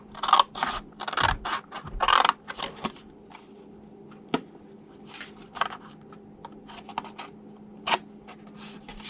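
Scissors cutting paper along a score line at a craft table, a series of short snipping and rustling bursts, busier early then sparser, close and fairly quiet.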